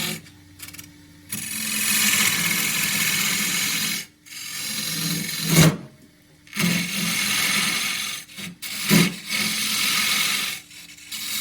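A 3/4 inch square scraper working the inside of a wooden tea box on a lathe, giving rough, raspy bursts of cutting over the hum of the spinning machine, with several short pauses between passes.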